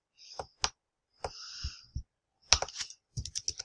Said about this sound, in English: I should probably go over here and type in live